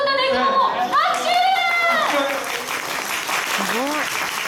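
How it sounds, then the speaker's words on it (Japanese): A festival crowd watching a stage performance by the Kumamon mascot claps in a short burst of applause, partly under excited voices that talk and exclaim over the clapping. "拍手"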